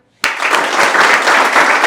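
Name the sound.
audience applause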